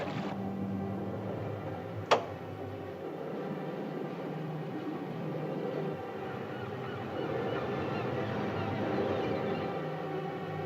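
A boat engine running slow while heading down a bay, a low steady throbbing hum that holds throughout, with one sharp click early on and a faint honk-like tone beneath.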